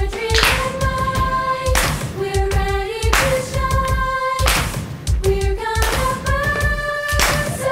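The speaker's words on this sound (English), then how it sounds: "we're all gonna clap over our heads" A group claps hands over their heads in steady bursts, sharp and close, over a bright tonal music backing that repeats through the passage.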